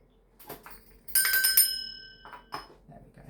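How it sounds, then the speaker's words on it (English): Two bells are rung to cleanse a space, giving a clear ringing strike with long, shimmering overtones that fade slowly, framed by soft knocks and quieter clinks before and after. "I'm going to be ringing a bell, or 2 bells."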